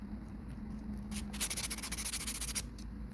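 Small buffing block rubbing across a gel nail during sculpting, a soft dry scratchy rasp in a burst of quick back-and-forth strokes lasting about a second and a half, close and fairly quiet.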